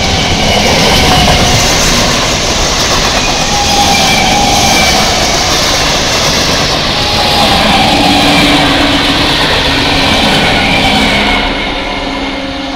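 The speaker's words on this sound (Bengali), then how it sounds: "7921 up Howrah Katwa local, next rail station Tibini." A Howrah-Katwa local train runs through Islampara Halt railway station, a loud continuous roar of wheels and carriages rumbling steadily close by before easing off slightly at the end.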